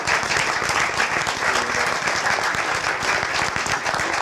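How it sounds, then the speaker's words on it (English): Sustained, loud applause from a seated audience at a formal gathering in the House of Lords, dense steady clapping that continues throughout. "A big round of applause to everyone that's come up"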